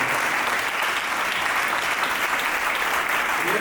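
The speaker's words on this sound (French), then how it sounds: "acclamez pour le Seigneur." Wedding congregation applauding together in a church service, dense, steady clapping from a large crowd that holds at even loudness throughout, with no voices standing out.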